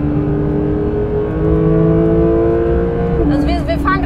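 Porsche 992 GT3 engine heard from inside the cabin on a warm-up lap, a loud steady drone that shifts pitch near the end as the revs change, with faint talk over it.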